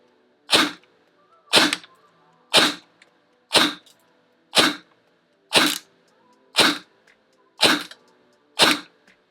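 A G&G TGM R5 ETU airsoft AEG fires on semi-auto with 0.20 g BBs on an 11.1 V LiPo battery: ten crisp, evenly spaced shots about a second apart, close and clear against silence.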